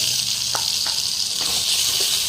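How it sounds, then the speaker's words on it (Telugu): Tomatoes frying in a pan on a stove, with a steady close sizzle and a few faint pops and crackles over it, no talking. "ఇప్పుడు మళ్ళీ స్టవ్ పైన పెట్టుకుని టమాటా కూడా వేయించుకోవాలి"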